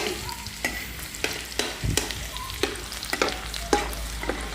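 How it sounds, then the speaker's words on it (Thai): Crushed garlic sizzles in oil in a hot pan while a spatula stirs it, with sharp scraping strokes about every half second over a constant frying hiss, heard close with no voices. "เราก็เริ่ม ผัดกระเทียมนะครับให้ หอมก่อนนะครับ"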